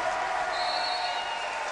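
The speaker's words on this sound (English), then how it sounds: "hear the crowd get excited" Iowa fans in the arena crowd at the 2011 Big Ten Wrestling Championships grow excited during a 174-pound college bout, Penn State versus Ohio State. A steady, dense roar of cheering voices holds at an even loudness throughout, with no clear break.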